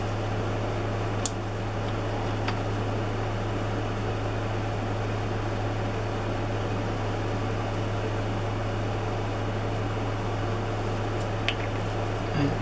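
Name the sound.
air conditioner running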